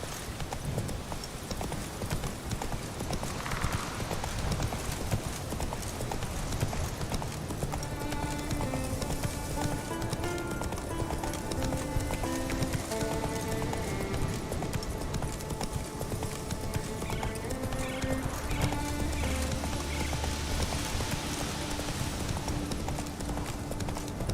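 Steady rhythmic hoofbeats of a horse galloping in The Witcher 3 run throughout, loud and continuous, with game music and a brief voice layered over the clip-clop.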